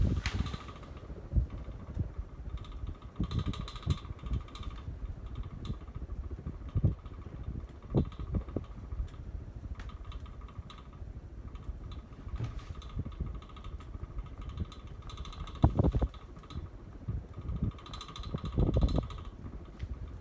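A 52-inch hugger ceiling fan with cane blades runs steadily, its airy whoosh mixed with low fluttering thumps and a faint mechanical hum, close and continuous.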